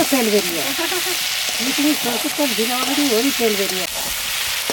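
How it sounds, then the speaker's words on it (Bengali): Masala crab frying in hot oil, a loud, steady sizzle and crackle running throughout, with a voice-like tonal murmur partly under it. "একটু লাল লাল করে ভেজে নিতে হবে"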